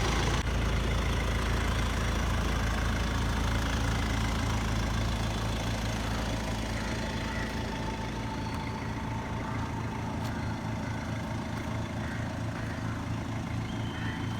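A 2002 Mercedes-Benz C200 CDI W203 with a common-rail diesel engine and six-speed manual idles close by, a steady, loud, clattering diesel drone that holds even throughout.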